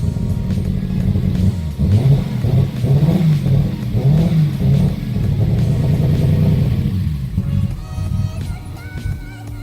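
Loud, close revving of a freshly started 1.5JZ engine in a car build, with repeated throttle blips rising and falling over a rough idle before settling, and a voice briefly audible underneath.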